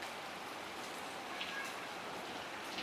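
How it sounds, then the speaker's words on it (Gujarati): A heavy downpour pours down over a Botad village, a dense steady hiss of rain spread evenly around, loud and continuous with no voices. "જોવો ધોધમાર વરસાદ ચાલુ થઈ ગયો છે."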